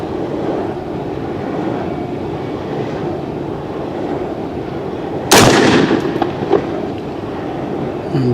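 A single loud rifle shot from a 450 Bushmaster firing a Hornady 240-grain XTP-M round at a target, a sharp blast with a ringing tail over steady outdoor background noise.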